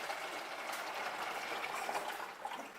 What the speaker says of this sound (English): The next step, you take some of the water and pour into this bucket